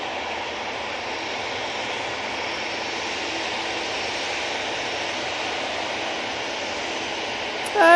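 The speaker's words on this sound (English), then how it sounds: "EasyJet coming on now," An EasyJet airliner bound for Basel on the runway at Manchester Airport, giving a steady whining jet hum at moderate distance that stays even before a sudden burst at the very end.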